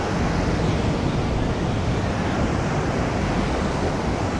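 Steady broadband wash of sea waves breaking at a beach club on the sea, with wind noise over the microphone; a continuous, loud surf roar with no pauses and no clear talk.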